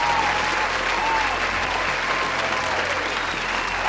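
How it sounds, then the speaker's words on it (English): A dense, steady wash of applause from a large crowd, loud and continuous for a few seconds before it stops abruptly. "so let's just give Pacific Rim Uprising a round of applause"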